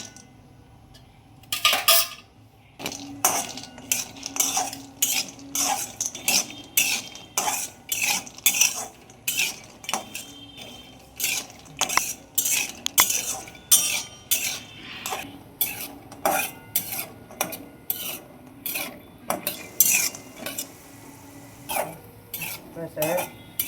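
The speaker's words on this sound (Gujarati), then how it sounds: "પેલા ઘી પધરાવવાનું અને એમાં પછી કાજુ બદામ અને પિસ્તા બધું રોસ્ટ કરવાનું એકી સાથે" A utensil repeatedly scrapes and knocks against a pan as cashews, almonds and pistachios roast in ghee, giving a rhythmic series of close metallic clinks and scrapes over a faint sizzle.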